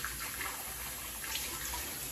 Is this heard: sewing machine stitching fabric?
no